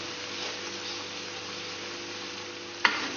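Peppers frying in a pan with chicken give a steady, close sizzle with faint stirring, then a sharp clatter near the end.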